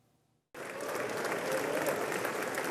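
Members of the US Congress give a standing ovation as the South Korean president takes the podium, with loud, sustained applause starting abruptly after near silence and filling the hall.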